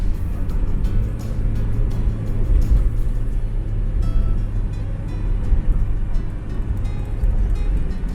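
A Jeep Cherokee XJ with a slight engine misfire drives along, its engine a steady low rumble under road and wind noise inside the cabin, with no clear talking.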